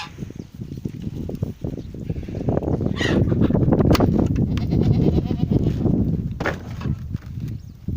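Goats and kids heading out on a farm walk on a windy day, with steady wind roar throughout and occasional bleats and hoof movement up close.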